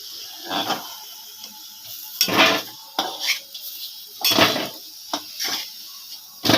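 A metal spatula clinks and scrapes against a frying pan while fried potatoes are lifted out one by one, a home kitchen cooking a pumpkin and potato dish; sharp, close clatters come in an irregular rhythm with no talking.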